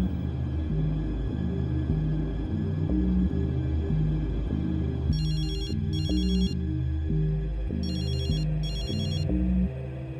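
A telephone rings on and on unanswered, a repeating electronic ring pattern joined halfway through by bursts of a higher trilling bell, all steady and fairly loud against a low hum.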